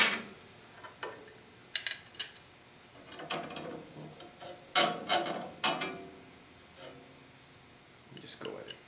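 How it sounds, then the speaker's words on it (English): A 17 millimeter wrench working a bandsaw motor bolt, scattered clicking and ratcheting metallic ticks in short irregular bursts, close but fairly quiet, with someone speaking intermittently. "I'll use this 17 millimeter wrench here"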